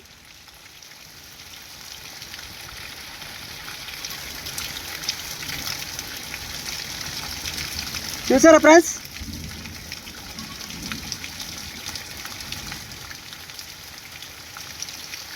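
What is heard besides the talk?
heavy rain with wind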